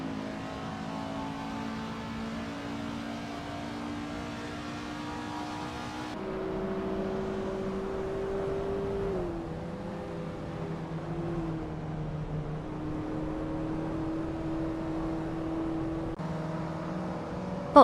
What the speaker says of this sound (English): we're about to watch some AI cars drive themselves into chaos